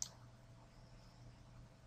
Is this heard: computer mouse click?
yes